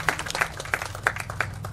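Guests at a traditional wedding in Rhode Island clap in a short round of applause, with sharp rhythmic claps standing out over a low hum of background noise.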